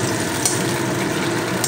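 Small peas fry in hot oil in a pan, giving a dense, even sizzle that fills the whole moment, with a faint stirring scrape now and then and no voices.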